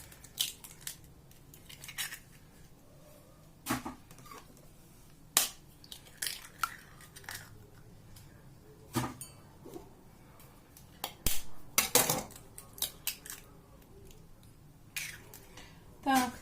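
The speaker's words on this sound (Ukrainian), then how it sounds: "три штучки яйця, теж все гарненько перемішуємо" Three eggs are added to a batter and mixed, heard as scattered sharp taps, scrapes and clicks of a utensil against a bowl, irregular and fairly quiet with a soft voice now and then.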